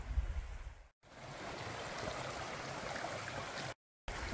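Creek water rushing steadily along a hiking trail in the Grand Canyon, a broad continuous wash close by with no voices.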